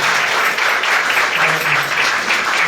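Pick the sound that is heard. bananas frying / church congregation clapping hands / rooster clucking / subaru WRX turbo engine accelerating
church congregation clapping hands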